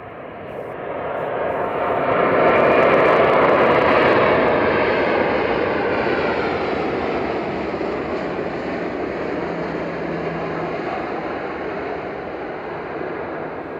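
Eurowings airliner from Dusseldorf touching down on runway 05 at Manchester Airport, a loud roaring rush that swells over the first few seconds, then eases into a long, steady rolling roar.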